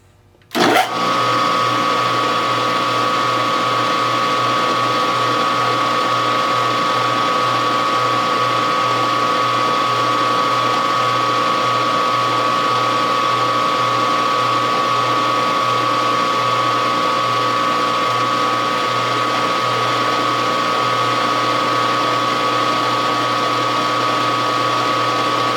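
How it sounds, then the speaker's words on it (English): A reamer turns through a lubricated hole in a small steam engine part on a machine, giving a loud, steady mechanical whir with a constant tone and faint rhythmic chatter. The sound runs unbroken for the whole stretch after an abrupt start. "Get some lubricant on that reamer. And we'll ream that hole."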